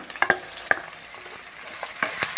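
Garlic and green chillies frying in a pan for an irumbanpuli (bilimbi) pickle, a soft steady sizzle broken by several sharp scraping stirs of the spoon against the pan, close up with no talking.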